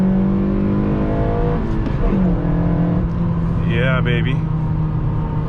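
A Honda Civic Si engine revs hard, its droning tone climbing and sliding in pitch over a constant loud rumble, while a man calls out excitedly partway through.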